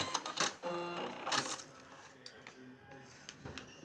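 A sewing machine stitches a quilt block in short clattering bursts with brief pauses between runs, close and fairly quiet, with rustling fabric and handling noises in the gaps.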